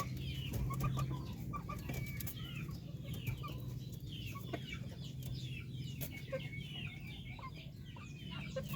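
Darag native chickens clucking steadily over a low hum, with a few sharper calls scattered through; the birds sound fairly near in a farm pen and no one speaks.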